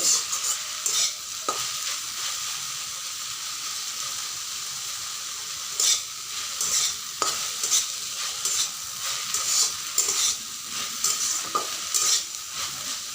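Kalmi greens (water spinach) sizzle in hot oil with a steady bright hiss, broken now and then by the scrape and clatter of a spoon stirring.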